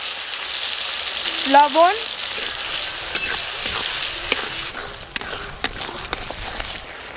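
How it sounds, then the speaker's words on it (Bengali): Nigella seeds tempering in hot oil for a spicy fish curry give a steady close sizzle, with scattered utensil clicks against the pan and a brief spoken word near the start. "মাছের কালিয়ার জন্য কালো জিরে ফোড়ন দেব"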